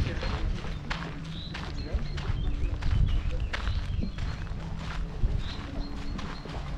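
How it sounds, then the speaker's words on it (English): A big strong horse walks by in a garden at a wine-producing estate, its hooves giving a steady run of clip-clop beats under people talking nearby. "Big strong horse."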